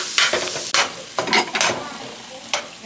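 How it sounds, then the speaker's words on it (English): Onions and curry sizzle in a pan, with a few sharp stirring scrapes and bursts of frying at close range, fairly quiet and without speech. "So now I'm just cooking out the onion, let the curry"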